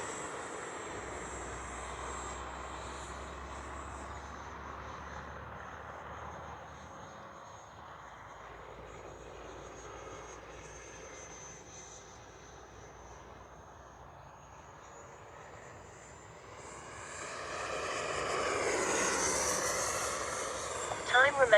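Freewing 80mm F9F Cougar electric ducted-fan RC jet flying outdoors at about half throttle, a steady whining drone that swells loudly toward the end as the model passes close by.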